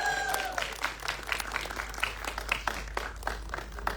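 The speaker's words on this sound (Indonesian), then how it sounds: "tepuk tangan yang paling meriah untuk Marsha Timothy" Scattered, fairly light clapping from a small audience at a film press conference, with individual claps audible over low background noise.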